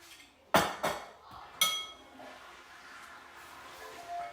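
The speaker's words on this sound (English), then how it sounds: "And then you just want to mix everything in. Mix the lime in." A few sharp clinks of a utensil against a bowl ring out as ground beef is mixed with lime juice, followed by softer, quieter stirring and handling noises.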